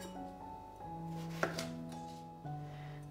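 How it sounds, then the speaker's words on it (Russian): A knife cuts eggplant into small cubes for a soup. One sharp chop stands out, with a couple of fainter cuts around it, over soft, sustained background tones. "Баклажан, как и предыдущие ингредиенты, нарезаю небольшими кубиками."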